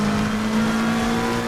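A GT3 race car engine in ACC at Silverstone holds a steady, loud drone under acceleration. It runs without pause, with a strong constant engine tone and no talk.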